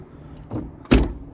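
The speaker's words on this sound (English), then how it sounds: "Windows roll up and down. Doors open and close great." A 1969 Ford Mustang Mach 1 door being worked: a short rustling movement followed by a firm, close thud as the door shuts, with quiet pauses around them.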